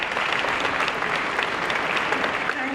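Audience applause at a scholarship gala and fashion show, a dense, steady wash of many hands clapping at once, loud and sustained without a break.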